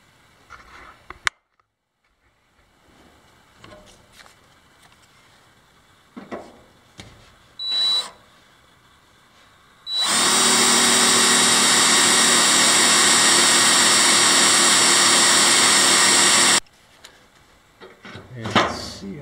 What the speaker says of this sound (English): Should be able to drill through there